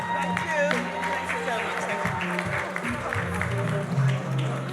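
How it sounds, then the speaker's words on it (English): Audience applause for a woman receiving a Caribbean nursing award at a 2023 Caribbean global awards ceremony, a steady wash of clapping mixed with crowd noise and music running underneath. "Give her a round of applause"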